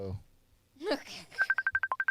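A phone connected over Bluetooth dials out with a quick run of about nine evenly spaced touch-tone beeps, loud and clear, coming right after a burst of voices.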